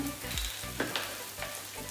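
Oil sizzling in a pan while tartiflette is prepared, a low crackling fry broken by a few sharper pops and stirring scrapes, with no voices.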